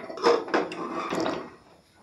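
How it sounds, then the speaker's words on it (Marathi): A pressure cooker lid is opened after cooking dal with tomatoes. It gives a few short metallic clanks and scrapes close by, then quiets. "तर झाकण उघडून बघूया"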